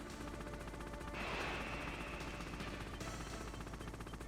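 Gunfire in the PC version of the video game Metal Gear Solid during a boss fight, a dense, steady barrage of rapid shots that swells briefly midway, with no talking.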